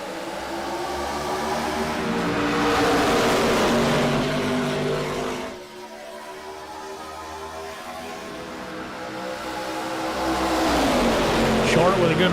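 ARCA race cars roar up to speed on a green-flag restart at Michigan in a fixed-series sim race, a loud engine pack building and passing, briefly dropping before surging again with rising revs.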